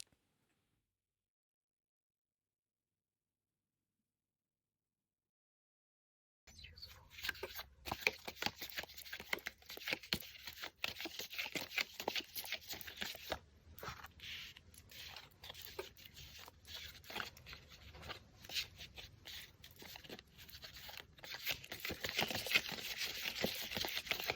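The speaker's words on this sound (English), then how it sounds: "So let's shuffle the cards now and see what we can get." Tarot cards are shuffled close by after several seconds of silence, giving a steady stream of soft scraping, slapping and riffling card sounds that keep going to the end, with no talking.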